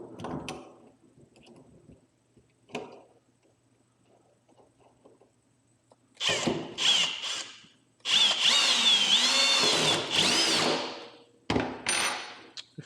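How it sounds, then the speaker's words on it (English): A power drill drives screws while installing a fish-finder transducer on a kayak, whirring in several bursts, some short and one longer sustained run, with quiet handling clicks between them. "I'm going to cheat. I'm going to use my drill."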